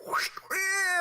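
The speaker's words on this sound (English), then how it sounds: "That's the cat coming in." A cat gives one clear, drawn-out meow at close range, preceded by a brief rising whine-like sound.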